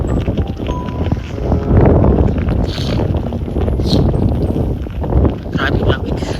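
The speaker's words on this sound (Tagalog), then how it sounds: "Grabe lamig kasi yung hangin sobra, parang umuumag sa lugar kasi sobrang lakas ng hangin" Strong, cold spring wind at Smoky Lake, Alberta, buffeting the microphone with a continuous loud rumbling roar that rises and falls in gusts.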